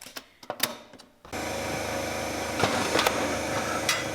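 A sewing machine stitching the leather insole of a biker boot under restoration, starting after a few handling clicks and then running in a loud, steady mechanical whir close by.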